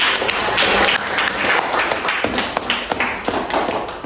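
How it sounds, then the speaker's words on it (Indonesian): Classmates clap for a student in a school chemistry lesson, a brisk burst of close, loud hand claps with sharp individual slaps that carries on for about four seconds before thinning out. "kita beri tepuk tangan untuk"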